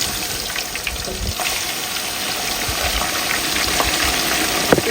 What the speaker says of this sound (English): I've cut up some cod fillet, and we are going to fry that in here.